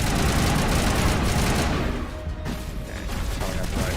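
Heavy gunfire in the video game Mass Effect, a dense, continuous barrage of shots and blasts that fills the opening seconds, then eases slightly while the rattling fire keeps going underneath.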